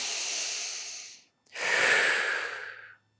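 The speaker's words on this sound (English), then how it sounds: "So big inhale, big exhale." Two deep breaths during a Pilates lateral breathing exercise: a long airy inhale, a brief pause, then a fuller, louder exhale, close and clear with no talking.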